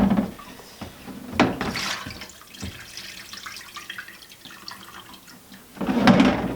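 Water runs from a tap into a container over salty food left to soak, splashing in bursts with pauses and some faint clatter in between.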